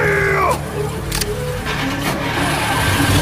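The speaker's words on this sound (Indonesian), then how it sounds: "Akhirnya Jaina masuk ke mobil mencoba melarikan diri" A car in the horror film Butcher, its engine and road noise running loud and steady throughout, with brief higher whines and tonal squeals layered over a dense mechanical rumble.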